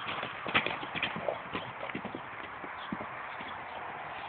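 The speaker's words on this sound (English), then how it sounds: "let me get a close-up on these horses." Horses trot along in an outdoor setting, hooves clip-clopping in a quick, irregular rhythm that is moderately near, with faint background noise.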